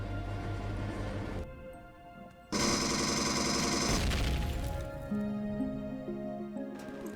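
Laser carbine gunfire from Empyrion Galactic Survival comes as a loud, dense burst of shots, layered over steady tonal music that continues around it.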